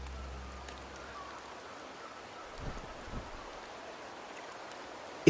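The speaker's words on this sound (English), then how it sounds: "The rains in Septimont never seem eager to leave this season." Steady rain patters over Septimont in the video game Wuthering Waves, a soft even hiss of drops on surfaces with a couple of faint low thumps, and no voices.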